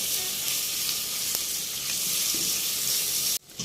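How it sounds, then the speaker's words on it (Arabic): Onions fry in a pan for a Turkish-style meat and pea casserole, a loud, steady close sizzle with a few light stirring scrapes, cutting out abruptly near the end. "واقلب لحد ما البصله تدبل شويه معايا."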